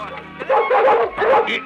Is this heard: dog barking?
yes